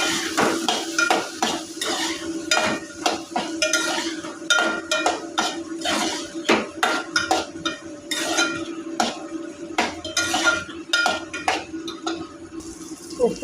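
Ginger garlic paste fries with small onions and two green chillies in a pan for an egg vadiyalu pulusu. A spoon scrapes and clatters in a steady rhythm over continuous sizzling, fairly close and loud, with faint talk in places.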